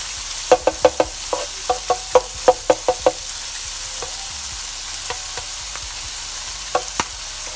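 Eggs and ground beef fry in a skillet with a steady soft sizzle, broken by a quick run of sharp clicks and taps from a utensil against the pan, then a few scattered knocks.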